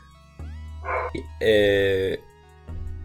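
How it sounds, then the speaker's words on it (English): A dog barking indoors in short, sharp yips and a longer, higher whining bark, heard close over a steady background hum, with a voice partly overlapping. "my dog is barking"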